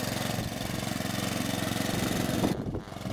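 A homemade power barrow's small engine labouring up a wet, slippery grassy slope, a loud close rhythmic putter that stays steady and then dips briefly near the end.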